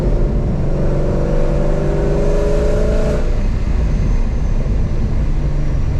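A loud 700 hp Mustang engine revs and rumbles steadily through a throaty Corsa Sport catback exhaust, the pitch rising then settling into a deep idle-like drone.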